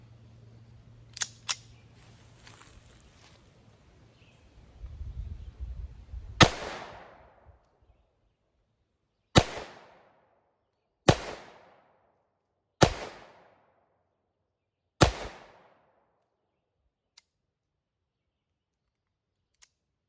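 Phoenix Arms HP22A .22 pistol fired at an outdoor target: five sharp, loud shots spaced a couple of seconds apart, preceded by faint handling clatter and a brief low rumble, with no talk.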